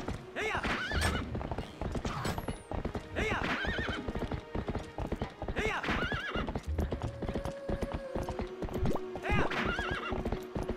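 A horse galloping in Zelda Twilight Princess HD, with steady rhythmic hoofbeats throughout, whinnies breaking in repeatedly and a game soundtrack playing underneath.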